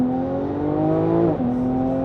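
A tuned Porsche 991.2 Turbo S flat-six, making 765 hp on 68 mm Pure turbos from Flat 6 Motorsports, pulls hard in a first-gear roll-on. Its loud, close, steady harmonic drone climbs, briefly dips mid-pull, then carries on without talk.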